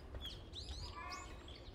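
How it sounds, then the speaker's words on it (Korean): Faint clucking and calls from native chickens kept at a farm beside a cherry-blossom hill park in Bucheon, a few short bird calls over soft outdoor background noise. "여기서 닭 소리가."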